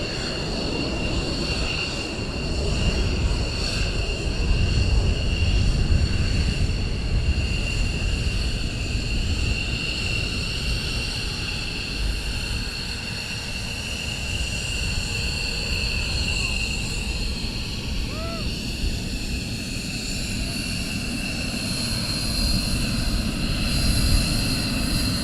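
Military jet taxiing at RAF Lakenheath during surge operations, a steady broadband engine roar and whine with high tonal bands holding at a constant level throughout.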